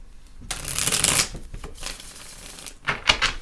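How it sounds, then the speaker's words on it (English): A deck of tarot cards is shuffled close up, a burst of riffling flutter followed by softer card slides and a final quick riffle, with no talking. "Much easier to shuffle these."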